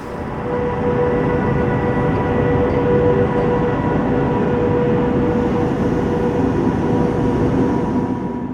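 A train in a rail yard gives a loud, steady rumble with a faint tonal whine. The sound runs unbroken for the whole stretch, with no voices.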